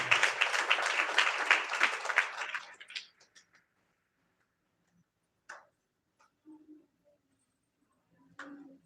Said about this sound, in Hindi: जोरदार ताली बजाकर धन्यवाद देते हैं